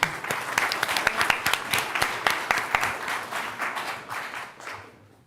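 Sustained audience applause at a startup demo day, many hands clapping steadily with a few sharp louder claps standing out, tapering off toward the end.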